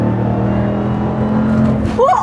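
A 2021 Ram TRX pickup with a 707-horsepower Hellcat engine, GTHaus exhaust and 37-inch tires drones loudly in a steady, heavy engine roar under excited talk from inside the cab.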